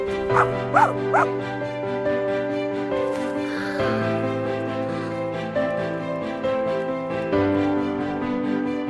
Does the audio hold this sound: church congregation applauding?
no